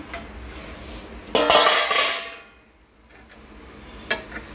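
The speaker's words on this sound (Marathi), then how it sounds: "पाच मिनटं झालेत आपण आता झाकण काढूया" A metal lid lifts off a pot of steaming sabudana khichdi in a home kitchen. It clatters loudly once, then a steam-like hiss fades, and a sharp metallic tap follows near the end; no one speaks.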